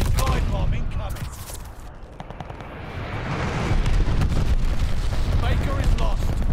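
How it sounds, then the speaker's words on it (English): Heavy explosion from an enemy glide bomb strike in Call of Duty: Vanguard, a dense rumbling blast that swells and holds loud amid ongoing battlefield gunfire, with voices talking over it. "Enemy glide bomb incoming"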